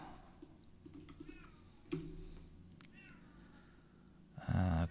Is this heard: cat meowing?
yes